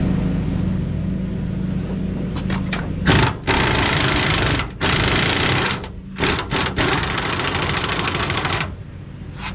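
Impact wrench fitted with a 24 mm socket running hard on a leaf spring bolt of a 1999–2007 Chevrolet Silverado or GMC Sierra, a loud sustained buzzing rattle in several long bursts with brief gaps, close up and without talk.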